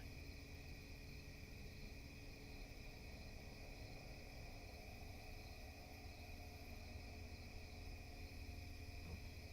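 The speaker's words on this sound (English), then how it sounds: "background noise here of all the crickets" Crickets chirp at night outdoors in a steady, continuous chorus, heard faintly and evenly throughout with no voices.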